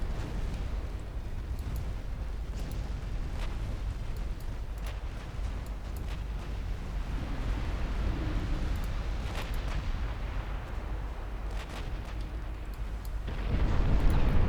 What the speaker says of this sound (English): I might actually get some torpedo attacks going on on that battleship.